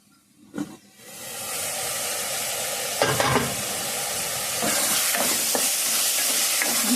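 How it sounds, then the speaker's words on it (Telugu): Chili powder fries in a pan for a tomato mutton curry: after a quiet start with a clank, a loud, steady sizzle rises and holds, punctuated by scraping stirs and utensil knocks, close up with no speech. "మనకి మళ్ళీ కొంచెం పచ్చివాసన పోయేదాకా కారాన్ని కొద్దిగా వేగనిద్దాం."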